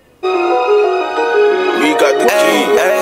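A rap song mixed in GarageBand on iOS starts after a brief silence, with a sustained synth tone and then vocals rapping over the beat, loud and close.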